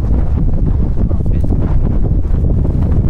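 Strong wind at sea roars across the microphone in heavy, continuous low buffeting aboard a fishing boat, loud and close, with a brief spoken word.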